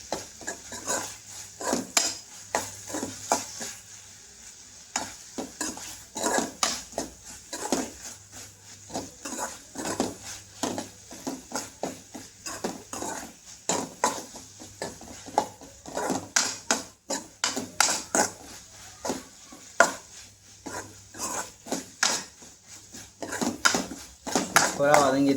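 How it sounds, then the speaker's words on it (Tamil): Tomatoes sauté in a pan for chicken liver thokku while a utensil stirs them, making frequent loud clanks and scrapes against the pan in an uneven rhythm, with a voice talking at times. "தக்காளியும் நல்லா வதங்கிட்டு இருக்கு"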